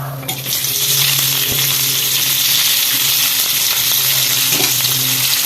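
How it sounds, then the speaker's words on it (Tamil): Onions and fennel seeds frying in hot oil for a green peas kurma, a loud continuous close sizzle with occasional stirring clinks. "எண்ணெய் காஞ்சிச்சு சோம்பு போட்டுறேன் வெங்காயம் போட்டுடலாம்"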